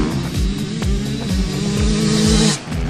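A 2011 Yamaha YZ125 two-stroke dirt bike engine revs loud and close in quick rising bursts, its buzzy pitch climbing and falling several times within a few seconds.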